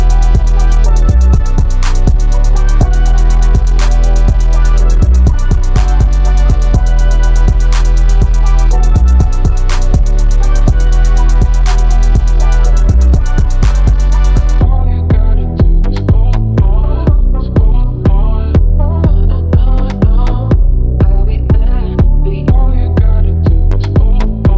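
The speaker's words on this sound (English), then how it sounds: "Altogether the beat sounds like this." A hip-hop beat plays loudly and continuously with heavy bass and steady drums, the bright upper layer dropping out about halfway as the arrangement thins into a sparser second section.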